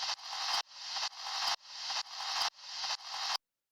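A looped noise sample in a techno track gives a filtered white-noise texture. It repeats as six evenly spaced bursts, each swelling up and then cutting off sharply, before falling silent.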